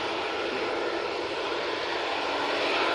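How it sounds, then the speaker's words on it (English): EasyJet airliner on its takeoff roll at Manchester Airport, a dense, hissing jet engine roar heard from a distance, steady and unbroken over a few seconds. "EasyJet now on the roll."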